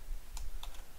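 A few quick, soft keystrokes on a computer keyboard as a command is typed, close and faint in a quiet room, with no speech.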